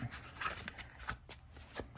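A deck of copper-gilded playing cards being shuffled, a quick series of soft riffling flicks and taps, close and fairly quiet.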